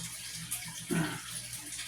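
Water gravity-drains from a home fish tank through a siphon hose, a soft continuous gurgle and trickle with a brief louder splash in the middle, close and fairly quiet.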